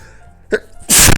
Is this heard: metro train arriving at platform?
no